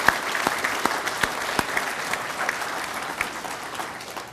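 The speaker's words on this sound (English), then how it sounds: "Let's give them a big round of applause." Audience applause for a school pep band at a Veterans Day ceremony, a loud, steady burst of crowd clapping with sharp individual claps standing out close by, sustained for several seconds without talk.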